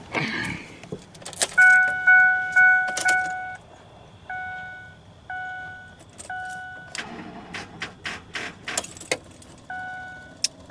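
Keys jangle and clink by a parked pickup truck with a dead battery while a repeated electronic chime sounds in short, evenly spaced bursts. The rattles and thumps are close and loud.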